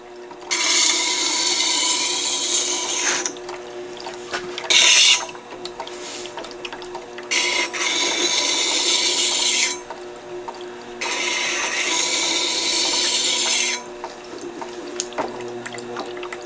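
A Tormek wet sharpening system hones a nearly new bowl gouge, with freezing water running over the stone wheel: several separate passes of hissing wet grinding, each lasting a few seconds, with quieter gaps and a low motor hum between them.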